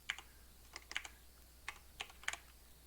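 Quiet typing on a computer keyboard, a few scattered clusters of light key clicks with short pauses between them, close and alone.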